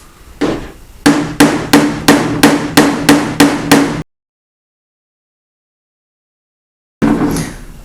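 Hammer blows on car body sheet metal, raising the edge of a panel during bodywork repair: a slow run of about eight sharp, evenly spaced metallic strikes, close and loud, then silence and a final burst of noise.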